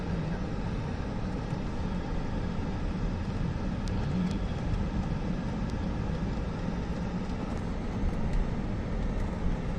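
Steady interior road noise fills a moving car, a constant low rumble of tyres and engine with faint ticks and rattles, unbroken and even in level throughout.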